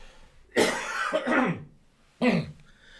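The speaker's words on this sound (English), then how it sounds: "excuse me, I got a cough" A man at a piano coughs twice, a harsh rasping fit of several rough bursts followed by a shorter throat-clearing cough, close and loud against a quiet room.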